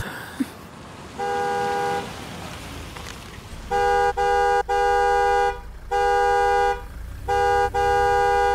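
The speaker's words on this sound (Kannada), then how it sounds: "ಎಷ್ಟು ಸಲ ಹಾರನ್ ಮಾಡೋದು?" A car horn honks in repeated long blasts, one then several more in quick succession, loud and close with little else around.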